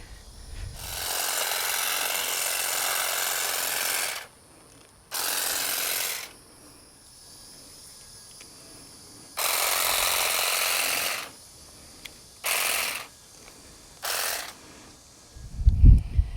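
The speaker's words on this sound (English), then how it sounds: "I can try it on this little hibiscus here." A Saker mini trimmer cuts a small hibiscus shrub in several buzzing bursts of varying length, loud and close, with quiet pauses in between.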